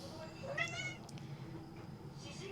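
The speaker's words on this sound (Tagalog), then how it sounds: "Nagmamiyaw siya." A cat meows from inside a cardboard box indoors, one clear drawn-out meow close to the microphone, with a faint second cry later over low room noise.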